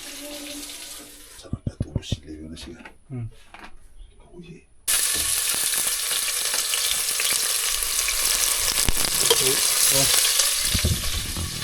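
Chili, onion and garlic hitting hot oil for a Fijian freshwater mussel curry: after a few seconds of sparse knocks and a voice, a loud continuous sizzle bursts in and holds steady.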